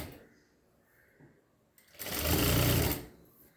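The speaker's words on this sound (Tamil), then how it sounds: "இந்த மாதிரி நம்ம கீழே வர ஸ்டிச் பண்ணிகிட்டே வரலாம்." After a quiet stretch with faint handling sounds, a sewing machine hemming a saree edge whirs loudly and close for about a second, then stops.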